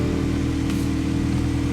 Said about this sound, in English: what you're hearing there is BMW's very familiar 2-liter turbocharged 4-cylinder